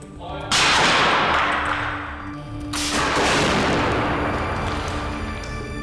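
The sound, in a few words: repeated shots fired at a Royalite safe room wall under test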